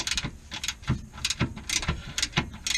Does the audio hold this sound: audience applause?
no